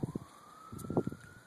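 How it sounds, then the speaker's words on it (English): A faint, distant siren holds a long, slowly rising wail across the whole moment, sitting behind nearer muffled voices and bumps. "I'm distracted by the siren in the background."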